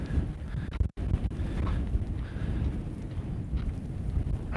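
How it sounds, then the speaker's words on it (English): Strong wind buffets the microphone outdoors with a constant low rumble and gusts, and a brief dropout near the start; faint hoof-like clopping may sit underneath. "Man, this is really super windy."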